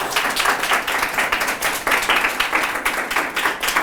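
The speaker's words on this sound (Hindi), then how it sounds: "आज जोरदार तालियां बजाएं उसके लिए।" A church congregation claps during a Sunday service, a fairly close burst of many hands with uneven, surging rhythm that swells and dips across the few seconds.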